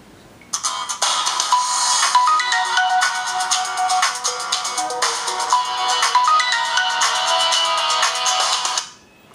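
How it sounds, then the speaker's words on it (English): A Samsung Galaxy S2 I9100 plays its built-in speaker-test ringtone. A bright, busy electronic melody sounds loud and steady for about eight seconds, then cuts off, with no speech. "That's a speaker test."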